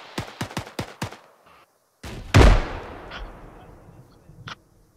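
Gunfire in the video game ArmA 3, a quick string of five sharp shots, a brief silence, then a heavy booming blast with a long rumbling tail and a couple of fainter distant reports.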